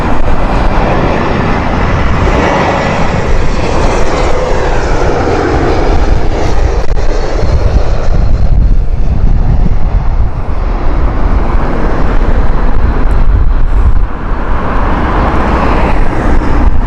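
Air Baltic Airbus A320 airliner at Heathrow in heavy winds, a loud steady engine roar with broadband wind rumble that holds throughout without pause.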